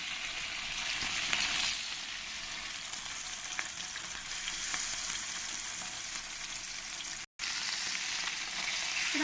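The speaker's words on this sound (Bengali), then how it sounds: "এবার আমি মাছগুলো দিয়ে দেবো এক এক করে সব আমি ভেজে নেবো লাল লাল করে" Katla fish pieces frying in hot oil, an even, soft hiss of sizzling that carries on steadily close by, with a brief dropout partway through.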